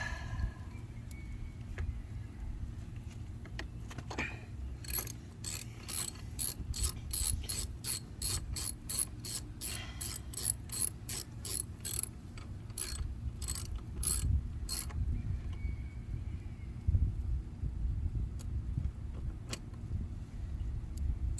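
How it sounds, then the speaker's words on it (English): Screws on an outdoor installation being reset and tightened with a ratcheting tool: a fast, even run of sharp ratchet clicks lasting about ten seconds, close by over steady low background rumble, no talking. "So I'm just going to reset the screws on this real quick."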